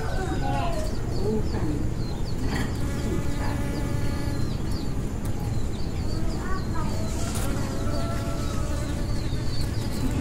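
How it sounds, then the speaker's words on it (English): Yellow bees buzzing among blossoms while pollinating and gathering nectar, a steady close droning hum with bird chirps scattered in the background. "A yellow bee flew with great ambition. It pushed its way into every blossom."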